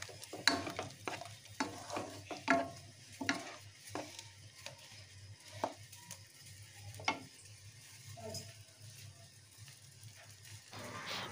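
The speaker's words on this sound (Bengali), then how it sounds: "এখন আরও কিছুক্ষণ আমি এটাকে নাড়াচাড়া করে মিশিয়ে নেব মশলাটার সাথে।" Ground spice paste frying in oil for a Bengali pabda fish curry, stirred with repeated scraping and clicking strokes over a steady low sizzle, close and fairly quiet.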